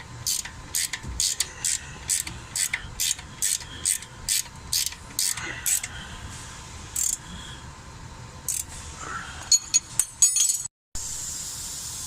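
Ratchet wrench tightening a nut on a 3-inch leveling kit for a Silverado/Sierra truck, giving a steady series of sharp clicking pawl strokes, close and fairly loud, with a few metallic clinks toward the end.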